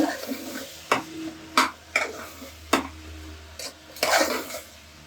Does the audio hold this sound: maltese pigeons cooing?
no